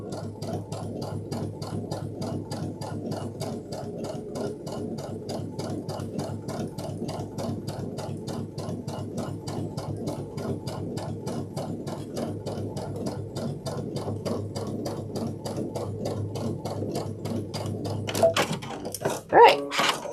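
A sewing machine runs steadily, top stitching along the printed edge of a Sunsetridge backpack panel, its rapid even needle rhythm continuing close and loud for most of the clip before a few handling knocks near the end.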